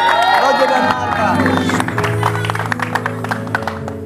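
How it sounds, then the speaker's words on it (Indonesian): Studio audience on an Indonesian television show clapping and cheering, a loud crowd roar with dense applause, overlaid at first by a musical sting and then settling into scattered claps with crowd noise. "Tepuk tangan dong buat Roger dan Marta."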